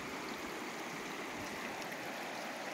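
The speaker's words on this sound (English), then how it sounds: "Just so much to see, and the beautiful sparkling water." The Bear River, running about 1,000 CFS in January, rushes over cobble in a dense, steady broadband wash, close and unbroken, with no voices.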